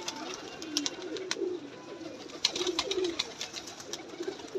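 Pigeons, some newly acquired, on a rooftop during a training session, giving low soft coos at intervals over a steady outdoor hiss, with a few faint higher chirps scattered through.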